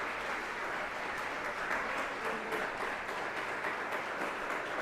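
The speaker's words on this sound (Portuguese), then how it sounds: "Você pode aplaudir o Senhor nesta noite?" A church congregation applauds steadily during an evening worship service, a dense wash of many hands clapping that stays even throughout, with no voices over it.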